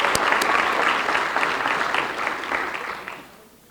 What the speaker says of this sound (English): I think we owe Mr. Houle a warm round of applause as well for his great leadership.